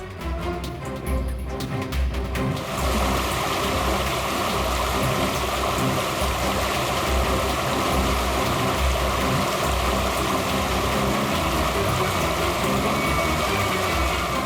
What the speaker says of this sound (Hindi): लो लो, आ गए वाटरफॉल पे